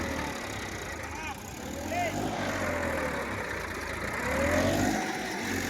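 A Massey Ferguson 1035 tractor engine labors in a farm field while pulling another tractor stuck under a load of grass, a steady mid-range drone that swells near the end, heard at moderate distance with voices talking over it.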